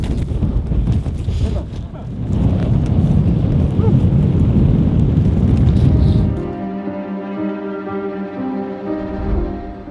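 Extreme wind roaring at high camp on Lenin Peak at about 21,000 feet, a loud, continuous buffeting rumble that gives way to calmer sound with steady tonal hum in the final seconds.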